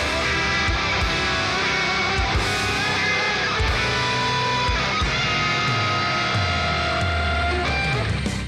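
A song passage with an ascending whole tone chord climb, played loud and dense with full band instrumentation, the chords rising steadily over about eight seconds.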